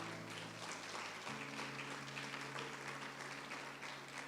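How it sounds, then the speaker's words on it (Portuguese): Congregation applauding in a church, faint steady clapping beneath a sustained keyboard chord that shifts pitch partway through. "aplauda Jesus agora"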